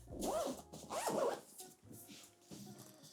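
The zipper on a Black Ember Citadel backpack, with PU-coated zippers, is pulled in two quick, close rasping strokes, followed by softer handling rustles.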